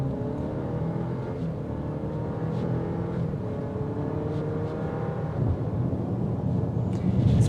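A 2022 Cadillac XT4 Premium Luxury's turbocharged engine accelerates on a drive, a steady low drone with rising harmonic tones that swells louder toward the end.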